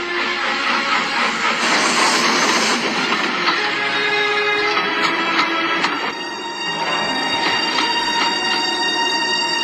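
Steam locomotive chugging steadily along its route, a dense rolling rumble with rhythmic clatter and hiss that stays loud and continuous throughout, with no voices.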